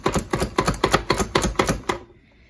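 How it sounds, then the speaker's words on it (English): A Pampered Chef chopper dicing onions gives about nine quick, evenly spaced clacks up close, with no voices, then stops abruptly. "So I'm using this Pampered Chef chopper right here to just really get these onions much smaller."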